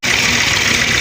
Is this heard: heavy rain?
no